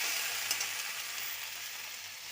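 Okra and small fried fish sauté in a pan, a quiet, even sizzle with light stirring scrapes and no talking.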